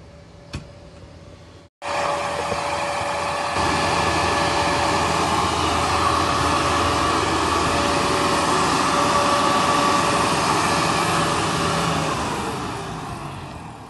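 A new 2024 Chinese-built tractor's engine starts and runs steadily at a tractor market, a loud continuous drone that settles into a level roar and eases off near the end, with no talk.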